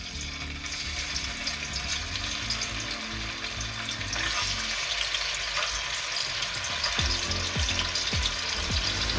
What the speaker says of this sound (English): When the oil is hot, I'm gonna put the meat in. It's the right sound.